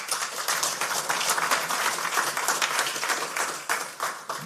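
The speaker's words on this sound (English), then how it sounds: "And a round of applause for them," An audience at an investors day event applauds the AV Connection team, a dense, steady wash of clapping that holds for several seconds and tapers slightly at the end.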